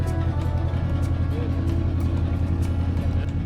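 An engine-driven boat moves along a mangrove creek near the Lakshmipur Bishalakshi temple, giving a close, constant motor drone with a low hum and faint splashing underneath.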